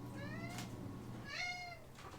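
A cat meows clearly several times, with drawn-out, rising-and-falling calls spaced about a second apart, close and fairly quiet over a steady low hum.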